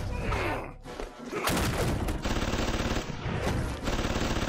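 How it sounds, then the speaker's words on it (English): Dense bursts of rapid gunfire and impacts from an animated Marvel vs DC fight between Venom and Bane, loud and continuous with brief gaps and thuds. "Bullets can't hurt Venom."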